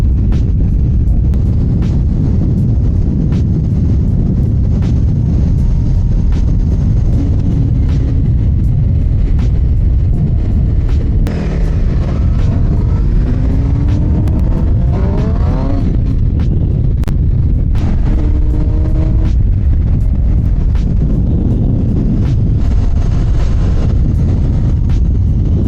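Suzuki GSX-R750 sport bike with a quiet Yoshimura exhaust riding at speed, a steady loud roar of engine and wind buffeting filling the whole stretch, with gear-change sweeps rising in the middle.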